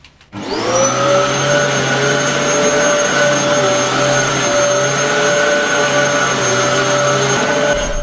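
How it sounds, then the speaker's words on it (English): A powerful medical suction machine starts up and runs with a loud, steady whining roar and sustained high hum, close and continuous with no talk. "It features the suctioning power up to 900 millimeters of mercury."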